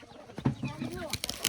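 Chickens and a rooster cluck and chatter close by in a yard with chicks around, short irregular calls mixed with soft voices in the background.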